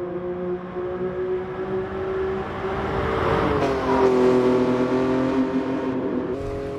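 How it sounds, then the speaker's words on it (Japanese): Car engine racing in Gran Turismo VR, a sustained droning rev with steady harmonic tones that rise and fall as the car accelerates, joined by another car's engine passing close behind; no voices. "後ろから車来ました"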